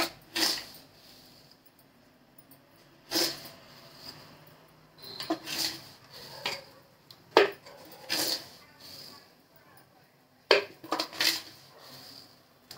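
A small spoon tapping and clinking against a steel pot while salt goes into boiling water for potato kees, a few sharp close metallic knocks spaced across otherwise quiet stretches.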